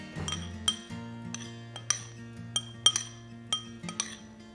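Salt and black pepper stirred together in a bowl, producing a run of light, bright clinks and taps of a utensil against glass in an uneven rhythm, close and fairly quiet, with a faint hum underneath.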